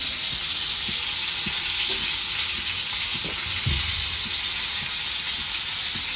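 A spiced corn cob frying in oil and turned with tongs: a loud, continuous sizzling hiss close by, with a few soft knocks and bumps as the cob is moved.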